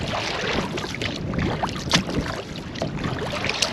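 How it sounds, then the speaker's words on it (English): Kayak paddle strokes splash and drip on open coastal water during a long solo trip, a steady wash of water and wind noise with a few sharper splashes near the microphone. "Just keep paddling."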